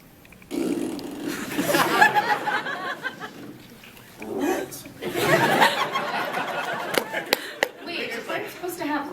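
A person imitates a fart with their mouth on stage at an anime convention panel, producing two long buzzing, sputtering blasts, with chuckles and talk from people nearby.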